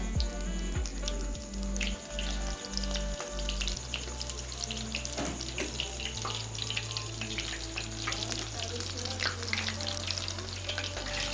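Food sizzles and crackles steadily in hot oil in a home kitchen, a faint, continuous frying hiss with scattered pops running the whole time, while a low hum sits underneath.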